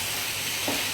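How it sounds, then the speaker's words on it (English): Prawns frying in a pan, a brief, steady sizzle with a faint stir partway through and no talking. "Now prawns don't take very long to cook, right? No, they don't. But just keep frying."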